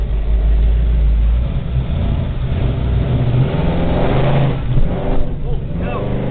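A 1970 Chevrolet Chevelle's engine pulls hard through heavy Detroit traffic, a loud steady low rumble with a rising surge near the end, close and continuous under the noise of the road.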